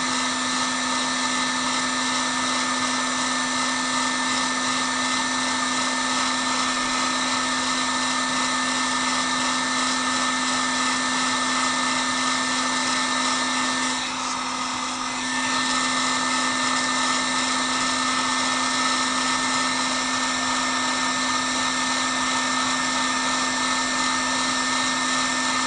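A heat gun runs continuously close by while PVC pipe is heated and rotated, a steady loud whining blower hum with a brief dip in the middle.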